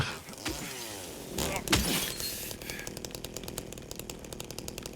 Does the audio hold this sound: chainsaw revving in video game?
yes